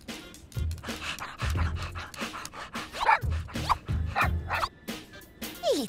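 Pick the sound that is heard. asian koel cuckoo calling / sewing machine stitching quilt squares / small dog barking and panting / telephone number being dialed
small dog barking and panting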